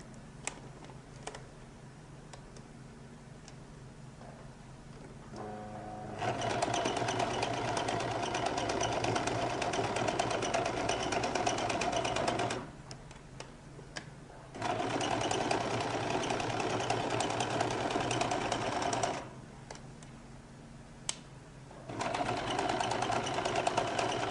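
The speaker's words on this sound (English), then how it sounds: "So I'm going to start by running a few gather stitches." A sewing machine runs gather stitches through a lady's jacket in three steady bursts of several seconds each, with short quiet pauses between them.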